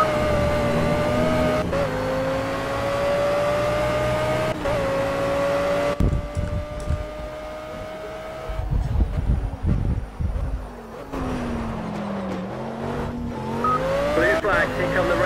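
Race cars on the Hockenheim circuit in a racing video game, loud sustained engine whine with pitch shifts as cars pass and downshift, under a voice talking.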